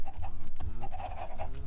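Chickens clucking in a Minecraft chicken farm with a redstone crusher, rapid repeated clucks in a steady rhythm, fairly close and alone.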